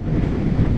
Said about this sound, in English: Wow, it's really very windy.